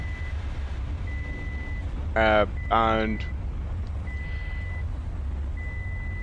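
In the Tornado: Research and Rescue video game, a computer gives a thin, steady beep that repeats at even intervals over a low background rumble, while someone speaks briefly in the middle.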